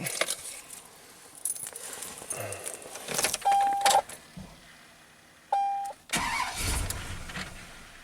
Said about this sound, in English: it kind of starts and stalls